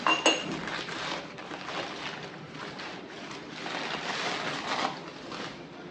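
Ceramic bowl with a matching lid handled up close, with light clinks and scrapes scattered through a soft, steady background, one sharper clink near the start.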